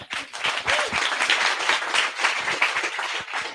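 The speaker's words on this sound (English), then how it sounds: "Round of applause." Audience applause at a live-streamed talk event, a dense, steady wash of many hands clapping at close to moderate distance, sustained for several seconds.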